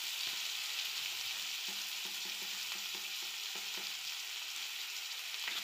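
Tomatoes fry in a pan for a chana-potato bhaji, giving a steady bright sizzle throughout with a series of soft stirring scrapes and taps.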